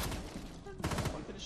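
Rapid gunfire bursts in the video game Rainbow Six Siege, short crackling volleys heard through game audio with a louder cluster near the end, while a voice talks over it.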